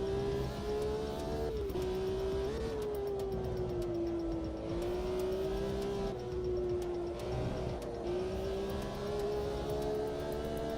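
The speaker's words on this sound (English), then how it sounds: "Manual blipping into second and first seems to be helping." A race car engine in a sim racing game drones steadily throughout, its pitch dipping and rising with brief throttle blips on downshifts, loud and continuous with no talk.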